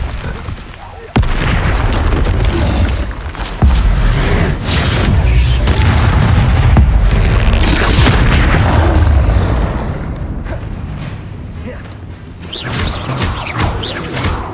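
Loud, continuous booms and bursts of spell explosions from the video game Hogwarts Legacy, with repeated impacts layered over a dense, rumbling battle soundscape and occasional voices.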